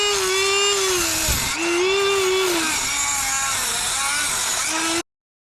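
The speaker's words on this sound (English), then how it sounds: "Cut rivet head to desired length." A rotary cutting tool trimming an awning crank rivet head to length: a steady, high-pitched whining buzz with a shifting tone, close and continuous for about five seconds before cutting off abruptly.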